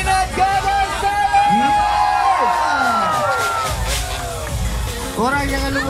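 Crowd at a bike week opening stunt show in Sandakan cheering and whooping loudly, a dense, close roar of many voices with shouts rising above it throughout.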